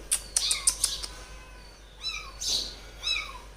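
A few short high cries followed by several drawn-out, wavering mews from a cat, fairly faint and close.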